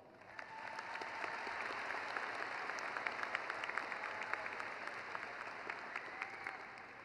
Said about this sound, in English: Now can we give him one more round of applause?